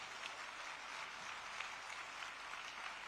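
Audience applause at a chief minister's inauguration of the CG Semi OSAT facility in Sanand: a steady, dense wash of clapping that holds at an even level throughout.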